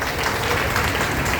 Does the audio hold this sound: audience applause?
yes